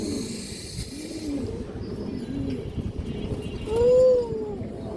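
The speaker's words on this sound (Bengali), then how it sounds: "অনেক চঞ্চল কবুতর দর্শক" A pigeon, a big-headed old-breed bird, gives soft repeated coos close by, ending in one louder, rising coo near the end, over low background murmur.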